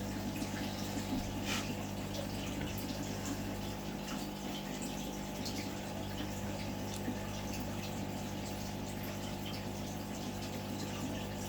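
Water gurgles and rushes steadily as dirt is siphoned out of a fighting fish tank, a continuous low trickling flow with faint bubbling, quiet and close, with no talk over it.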